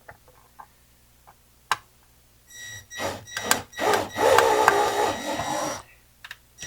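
A drill boring holes into the metal chassis of a vintage Pioneer SX-1280 stereo receiver, a few faint taps followed by a loud, uneven grinding run of about three seconds that cuts off, then scattered small clicks.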